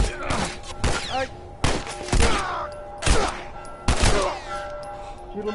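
Bursts of video game gunfire from The Last of Us crack out in several separate volleys, each followed by a short ringing tail, with quiet gaps between them.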